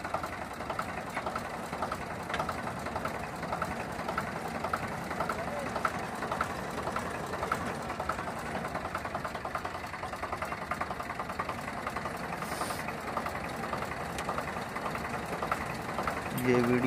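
A 1990 model Swaraj 735 tractor engine runs at full RPM in first high gear, a steady, even diesel drone that holds constant throughout, with someone speaking over it.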